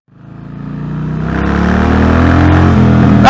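A heavy 1800cc Harley-Davidson Fat Boy motorcycle engine revs up and accelerates, its roar climbing steadily in pitch and loudness over a few seconds, close and strong.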